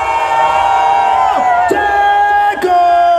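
A loud crowd roars and shouts together, a sustained wall of voices over amplified music, with a couple of sharp bursts.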